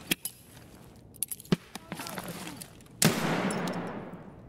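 A USP pistol in Escape From Tarkov fires a few separate sharp shots with gaps between them during a fight on the Factory map, the last shot followed by a lingering echo.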